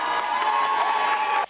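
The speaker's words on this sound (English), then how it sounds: "Becker students cheer" A crowd of college students cheers and whoops inside a school gymnasium at a president's inauguration, a loud sustained roar of shouts that cuts off abruptly near the end.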